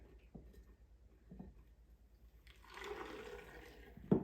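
Coconut milk pours from a nut milk bag into a pitcher, a soft trickle that swells into a fuller liquid rush partway through, with a few faint clinks before it.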